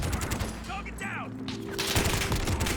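Rapid bursts of gunfire in a shooter video game, from fortnite, Valorant, Warzone or Apex-style play, crackle loudly and continuously with booms, and a voice briefly speaks over the shooting.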